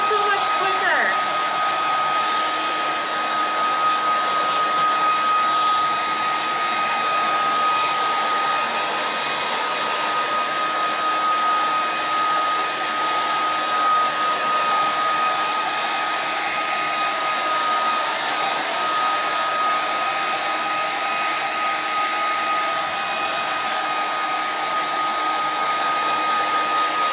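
A hair dryer running on its high setting roars in a loud, steady, unbroken rush of air close by for nearly half a minute.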